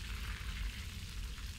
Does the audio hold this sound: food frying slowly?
yes